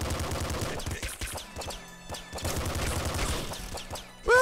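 SMG fire in the PC game Nuclear Throne, rapid bursts of video-game gunshots rattling in quick succession with a brief gap, loud and close, with no talk.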